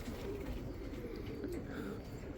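Tippler pigeons coo steadily at close range, their soft throaty calls repeating over a constant low background hum, with no talking.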